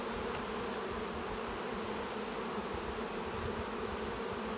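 Honeybees swarming around an opened hive during an inspection, a dense continuous buzzing drone, close and steady with no voices over it.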